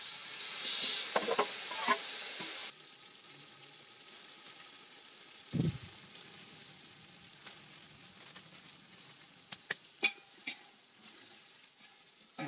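Onions and tomatoes fry in a pan for a gravy with a soft, steady sizzle. The hiss is fuller at first, then settles into a quieter crackle dotted with faint pops and one brief low thump.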